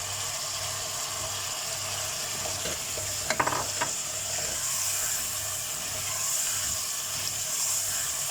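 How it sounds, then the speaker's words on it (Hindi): Potato cubes fry with masala in a pan, giving a steady sizzle throughout, with a few clinks and scrapes of stirring near the middle and no voices. "तो अब आलू को मसाले के साथ अच्छे से भून लीजिए।"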